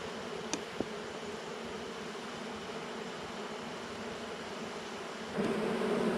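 Honeybees buzz steadily around the frames of a healthy hive during a honey harvest from deep super frames. The hum is close and continuous, with a slight swell near the end.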